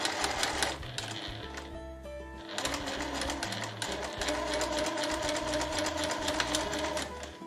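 A sewing machine stitches slowly around a curve on a fur tote bag in rapid mechanical bursts, pausing briefly before running again, close and steady with no talking.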